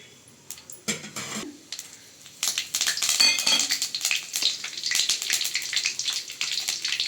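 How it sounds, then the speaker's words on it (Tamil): Whole cinnamon and cloves sizzle in hot oil in a kadai: after a few quiet knocks and a brief rustle, a steady, crackling sizzle rises and holds, fairly loud and close. "கடாயில் எண்ணெய் ஊற்றிக்கோங்க. தாளிப்பு இதில் போட்டுக்கோங்க."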